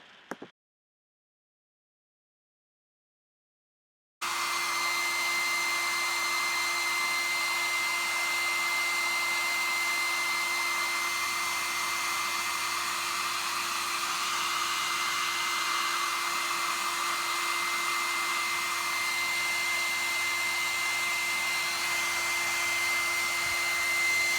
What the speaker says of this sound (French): plaçons notre sèche-cheveux pour étudier sa réaction